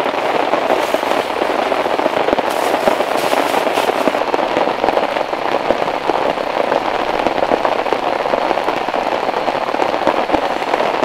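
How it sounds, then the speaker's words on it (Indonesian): Heavy rain pours steadily at a campsite, a dense, continuous hiss and patter of drops splashing on surfaces for the whole stretch, loud and close with no let-up. "jadi tempiasannya ke sini nih hujannya."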